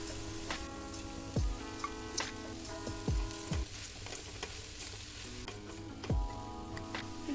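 Greens fry in a pan as a soft sizzle with repeated clanking spoon strokes against the metal, some ringing briefly, at an even, unhurried pace with no voices.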